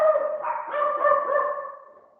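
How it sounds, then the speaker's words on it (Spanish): Dog barking indoors during an anatomy lesson: a single drawn-out, tonal yelping bark that wavers in pitch and fades away over about two seconds, fairly close. "Se me va a volar el perro."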